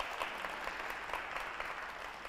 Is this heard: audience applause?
yes